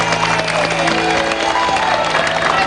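A studio audience on an Indonesian TV variety show claps and cheers in a dense, steady wash of applause for the whole stretch, with crowd noise and a voice mixed in underneath.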